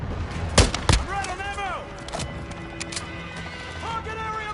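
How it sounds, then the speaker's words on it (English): Call of Duty Modern Warfare 2 cruise missile strike, with heavy booming blasts up front followed by quieter distant explosions, under synthetic game radio callouts. "Friendly cruise missile approaching target."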